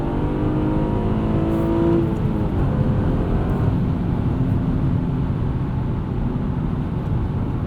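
A 2016 Honda Accord V6 coupe with a six-speed manual revs up and pulls hard after a downshift, its pitch climbing and then settling into a strong, steady drone heard from inside the car.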